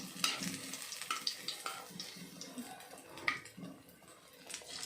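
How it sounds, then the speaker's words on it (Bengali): Eggplant fritters in gram flour batter sizzle in hot oil close by, with irregular clinks and scrapes of a utensil stirring and lifting pieces from the pan. "এইটা তুলো, তুলে আবার ইয়ে বেগুনি ভাজা হয়ে গেছে।"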